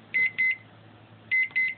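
A microwave oven gives four short, loud electronic beeps close by, two quick ones, a pause, then two more.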